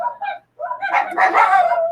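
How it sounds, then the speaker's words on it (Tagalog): Dogs bark loudly and close by, two quick yaps, a short pause, then a longer run of overlapping barking and yelping. "Sandali lang, yung mga aso, maingay."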